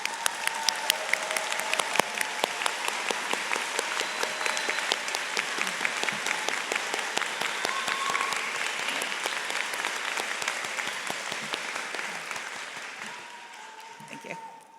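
Graduates and guests at a spring 2024 College of Veterinary Medicine commencement applaud loved ones in the audience, loud sustained clapping from a large crowd that holds steady for several seconds before thinning out and fading near the end.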